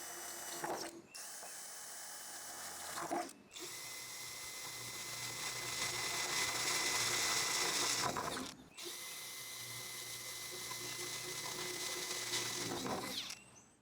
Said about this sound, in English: So let's go ahead and drill through.